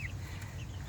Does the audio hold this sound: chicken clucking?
yes